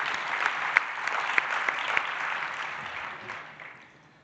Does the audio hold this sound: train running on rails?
no